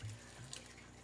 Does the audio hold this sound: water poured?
yes